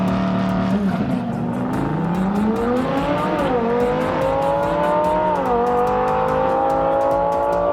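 Audi R8 with a 5.2 liter V10 engine revving hard, a loud close high-pitched scream that climbs in pitch through the gears with brief dips between shifts.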